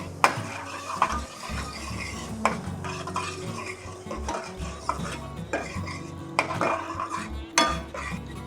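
Vegan meat goes into a pan with cumin, salt and pepper and gets stirred, with a spoon repeatedly scraping and clinking against the pan over a light sizzle.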